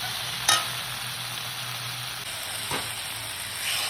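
Okra boiling in a pan with poppy seed paste, stirred with a utensil: steady bubbling hiss throughout, with a sharp scrape near the start and another softer one midway, close and fairly loud, no voices.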